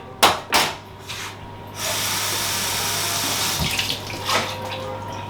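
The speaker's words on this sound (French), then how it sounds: "Quand on a bien vidé le pot de yaourt, on va le rincer." An empty yogurt pot is rinsed under a running kitchen tap: a few short splashes, then a steady close stream of water drumming into the pot and sink.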